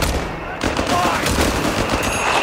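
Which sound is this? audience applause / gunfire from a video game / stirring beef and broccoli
gunfire from a video game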